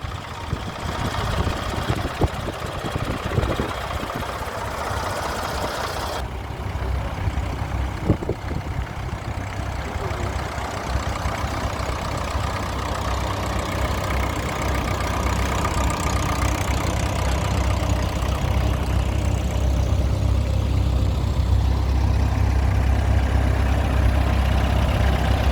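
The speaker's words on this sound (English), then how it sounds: "you can see we've got our tractors entering our parade grid." Vintage tractor engines idle and rumble steadily as the machines enter the parade grid at an outdoor old-time rally, a continuous low, loud drone that holds throughout with small knocks and shifts in the mix.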